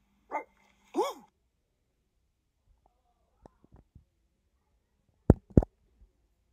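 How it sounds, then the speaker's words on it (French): A dog attempts to bark but manages only a few strained, hoarse yips and whimpers, two near the start and two sharper ones later, separated by near silence with faint small noises. "Elle essaie d'aboyer, elle arrive pas,"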